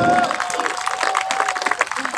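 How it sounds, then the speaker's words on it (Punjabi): Crowd clapping and cheering for a kabaddi player at a Punjab village show match, a dense steady wash of applause with a higher voice or whistle line running through it. "ਸੱਤੇ ਲਈ ਵੀ ਤਾੜੀ ਮਾਰੋ ਤੇ ਦਿਓ ਹੌਸਲਾ ਮੁੰਡੇ ਨੂੰ"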